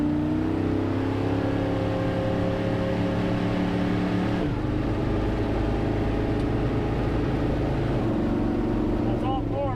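An off-road wrecker truck with a freshly rebuilt transmission runs through its gears, a loud close engine drone holding steady before the pitch drops and settles at a new level, with a faint voice near the end.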